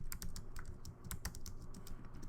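Rapid, uneven keystrokes on a computer keyboard while a note is typed, steady clicking bursts over a low hum, close and moderately loud.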